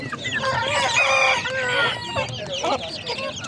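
Chickens cluck and squawk nearby at a poultry market, with a rooster's drawn-out crow rising over the flock's chatter.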